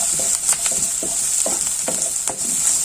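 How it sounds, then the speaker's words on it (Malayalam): Ivy gourd with chili flakes sautés in a pan, giving a steady close sizzle broken by repeated scrapes and clatters of a stirring spoon. "അപ്പോൾ ഈ പച്ചമണം ഒന്ന് മാറുന്നവരെ നമുക്ക് ഇതൊന്ന് വഴറ്റിയെടുക്കാം"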